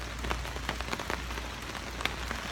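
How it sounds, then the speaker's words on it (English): Steady rain patters on a hammock in a wet forest in New York's Hudson Valley, a dense close hiss with scattered louder drops and no voices. "I love it even more when it's raining"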